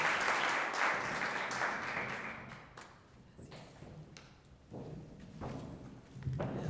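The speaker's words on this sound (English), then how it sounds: "We welcome, with a round of applause," An award ceremony audience claps to welcome Ms. Rojas, the newly re-elected chair of the Board of Public Schools: a full wash of applause that thins after a few seconds, then returns in scattered bursts, with no voices.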